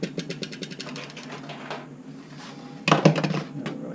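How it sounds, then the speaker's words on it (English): Sharp knife slicing chicken wings in half for Demon Wings on a cutting board, a run of quick close chopping taps and board knocks, a brief pause, then a louder cluster of cuts. "We're going to slice these things in half right here. Just taking a sharp knife."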